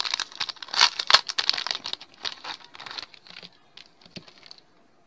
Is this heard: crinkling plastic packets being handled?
yes